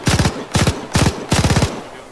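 Four rapid bursts of machine gun fire in the video game ARMA 3, each a tight string of loud, close shots separated by brief pauses.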